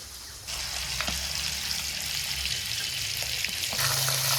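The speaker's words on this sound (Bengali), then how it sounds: "ওদিকে মাছ ভাজাও প্রায় হয়ে গেছে" Hilsa fish pieces fry in hot oil with a steady, bright hiss and crackle that runs throughout, close and moderately loud, with a brief low hum joining near the end.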